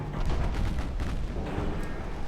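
Booming naval gunfire from warship guns in a video game rolls on in a dense, low rumble of overlapping distant blasts, steady and muffled throughout.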